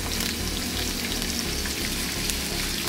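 Vegan food fries in a pan with only a little oil, giving a steady, loud, close sizzle that fills the whole stretch without pause and with no speech.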